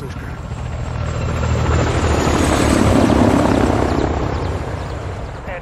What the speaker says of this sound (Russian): У нас тут вертушка.